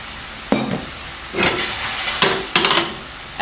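Asparagus sizzles in a hot pan as rice wine and sesame oil are added, giving sharp bursts of hissing and spluttering that flare and fade several times, close and fairly loud.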